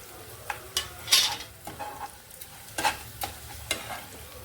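Coarsely crushed garlic cloves fry in a pan for a taro curry, crackling under a few sharp stirring clinks and scrapes, close by with no talk.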